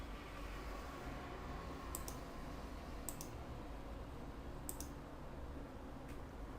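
A few quiet, sharp mouse clicks land sparsely over a faint steady hum while someone navigates a QGIS menu, with no talk in between.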